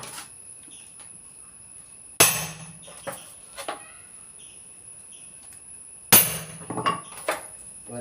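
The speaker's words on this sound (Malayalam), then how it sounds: "ചറപറ അടിച്ചു." Rapid hammering while a kavadi is being built, heard as two loud, close bursts of blows separated by several seconds. A few lighter knocks trail each burst, and faint birdsong and a steady high insect tone carry on in the background.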